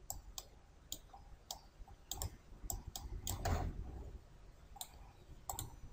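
Sharp computer mouse clicks in CATIA software, a dozen or so crisp isolated ticks spread irregularly over several seconds, close and quiet, with faint low rumble in between.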